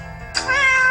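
A cat gives a single brief, close meow that rises over a steady tonal background hum, lasting under a second.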